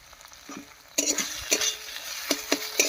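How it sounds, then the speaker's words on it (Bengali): Man kochu with turmeric and salt is stirred in a pan, a spatula scraping and clinking against the metal in irregular strokes over a soft sizzle, close up and without speech. "হলুদ লবণ দিয়েও মিশিয়ে নিলাম"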